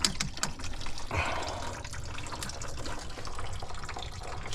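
Engine coolant pouring out of a disconnected car radiator hose, a steady liquid splashing and trickling that stays fairly loud and continuous throughout, with no talking.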